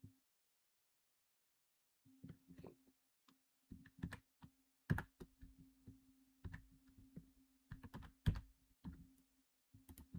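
HTML code being typed on a computer keyboard produces near, quiet bursts of key clicks in uneven clusters after a short silence, with a faint steady hum underneath.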